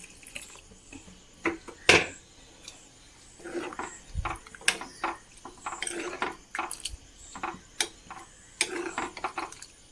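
Coconut milk poured into a simmering drumstick and tomato curry in a pot, giving scattered wet splashes, drips and light clinks of a utensil against the pan, close and moderately quiet with no talk.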